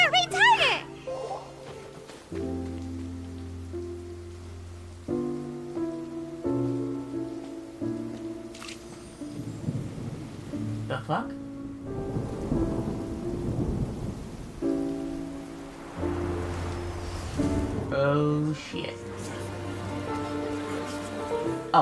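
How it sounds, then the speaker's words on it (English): Rain and rolling thunder from a storm in the video game Genshin Impact build under game music. A person talks and exclaims over the steady downpour and occasional rumbles. "Oh, huh? It's raining!"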